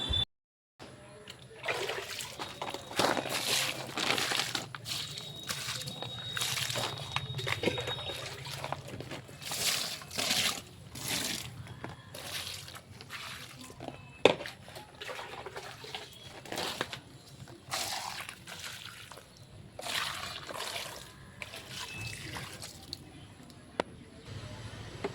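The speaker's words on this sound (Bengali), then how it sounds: "এখানে গাছগুলোতে অল্প জল দিয়ে নেব" Water poured from a container onto the dry soil of potted plants, giving a steady close trickle with wet splashing and dribbling bursts over about twenty-five seconds, no talking.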